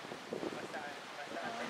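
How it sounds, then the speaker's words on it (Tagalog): Strong mountain wind on the Mt. Apo Kapatagan trail roars steadily against the microphone, a broad buffeting rush that fills the clip with brief voices faint beneath it. "Ayan, malakas ulit yung hangin."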